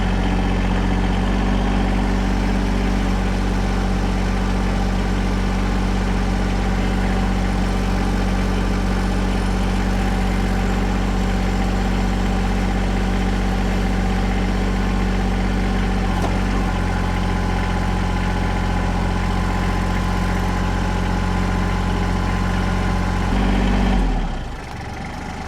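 A compact tractor engine runs steadily at about 2,000 RPM while driving an Eastonmade MS 324 wood splitter, a loud, constant close-up drone that continues without talk and cuts off abruptly near the end.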